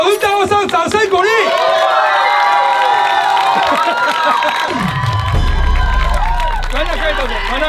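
A large crowd cheers and shouts loudly at a live stage event, with excited voices rising and overlapping near the microphone, and a booming sound swell entering midway.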